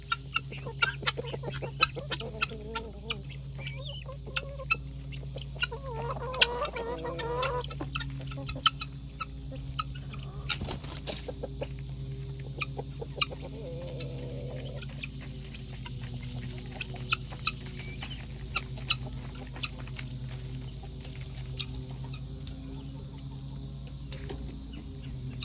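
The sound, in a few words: chickens and guinea fowl clucking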